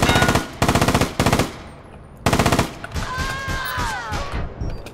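Aces rifle fire in the online shooter APB: Reloaded comes in rapid loud automatic bursts, three quick volleys then a longer one, with a rising whistling tone and background game noise after.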